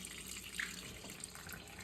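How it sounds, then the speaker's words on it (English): Water draining from a small model steam boiler into a kitchen sink, a faint steady trickling stream with a light splash, no voices. "After 2 hours, I drained the boiler into the kitchen sink."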